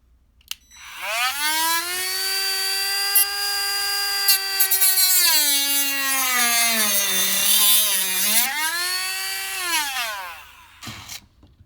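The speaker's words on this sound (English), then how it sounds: "So I'm going to get the rotary tool and I'm going to give it another go." A Dremel rotary tool cuts into plastic on a VW MK7 shifter, giving a loud, steady high-pitched whine for about ten seconds. Its pitch sags and recovers as the bit bogs down in the plastic.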